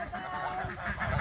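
Geese and ducks honk and call in a busy, overlapping flock as they are let out of their pen on a small farm, the noisy calls continuing steadily throughout at close range.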